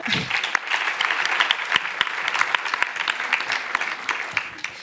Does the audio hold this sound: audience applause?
yes